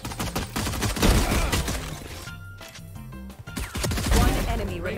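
Rapid gunfire in the video game Valorant as a player shoots a teammate, dense loud bursts of shots with a brief lull in the middle, a voice talking over parts of it.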